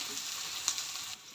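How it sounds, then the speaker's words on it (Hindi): Onions with red chilli stir-fry in a pan for dal saag, a brief, steady sizzle with one light clink of a spoon partway through. "और इन्हें चलाते हुए हम भूनेंगे"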